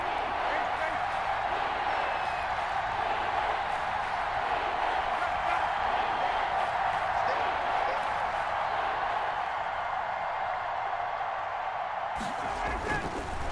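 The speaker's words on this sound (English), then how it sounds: "The crowd getting into it as we come up on a big third down." Stadium crowd in the Madden NFL 21 football video game, a dense, steady roar of cheering that holds loud and unbroken throughout, swelling slightly before dropping off near the end.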